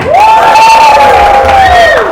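Crowd at a birthday celebration cheering loudly, a sustained shrill whoop of many voices rising and holding for about two seconds, close and loud.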